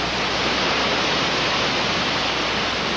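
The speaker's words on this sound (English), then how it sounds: "This is the highest waterfall, or set of cascades anyway, in the eastern United States." Whitewater Falls, a tall set of waterfall cascades in the eastern United States, gives off a dense, steady roar of falling water, loud and unbroken, with no voices.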